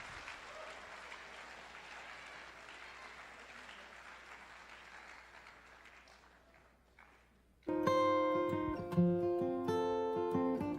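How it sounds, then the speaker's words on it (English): Sustained audience applause at a talk, a dense wash of clapping that fades out, then music abruptly begins and carries on loudly. "So how about a big round of applause for Dr. Lanham?"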